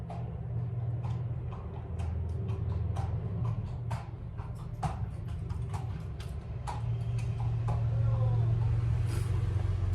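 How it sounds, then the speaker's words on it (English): A horse goes by on a road with steady clip-clop hoof beats passing over a constant traffic rumble, without any talking. "That's a horse going by."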